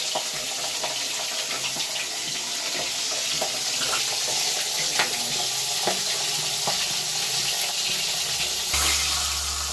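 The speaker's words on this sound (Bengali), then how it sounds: "আমি এবার মাথা দুটো ভেজে নেব।" Fish heads fry in hot mustard oil with a steady, dense sizzle and crackle, broken by scattered pops and spatters, close and fairly loud with no voices.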